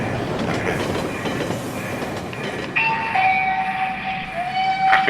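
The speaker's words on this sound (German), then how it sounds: "Achtung, bitte Vorsicht, an Gleis 2, ein Güterzug fährt durch." Freight train rumbling through on an N-scale 1:160 digital model railway, played as a sound effect: steady rolling rail noise with clickety-clack, then high sustained wheel squeal tones over the second half, moderately loud with no talking.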